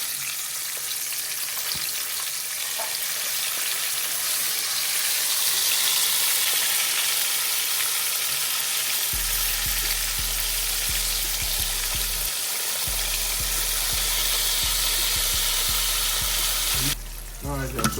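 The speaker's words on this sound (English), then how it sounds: "So I'm going to go ahead and drop these back in for that second fry." Battered shrimp dropped back into oil at about 360 degrees for a second deep fry, a loud continuous bubbling sizzle that swells midway and runs close and steady, with no talk.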